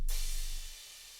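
A single loud cymbal crash with a bright, hissing wash that decays quickly after the initial hit.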